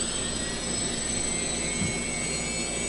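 Quadcopter motors spin up together in a steady, droning whine with a broadband rushing hum, holding constant and loud for a few seconds with no talking.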